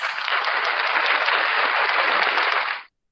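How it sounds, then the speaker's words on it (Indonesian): Applause in a virtual class meeting, a steady wash of clapping that holds evenly for under three seconds and then cuts off abruptly to silence. "Dan tepuk tangan untuk Ananda Bagas."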